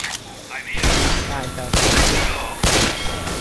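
Gunfire in the zombie shooter game Left 4 Dead 2 cracks out in several loud bursts of shots with brief gaps between them, while people talk over the action.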